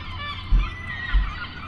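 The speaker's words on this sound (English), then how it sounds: "A lot of seagulls this morning." Loud honking seagull calls in Yarmouth, Nova Scotia, two short bursts a moment apart, over steady outdoor background noise with no talking.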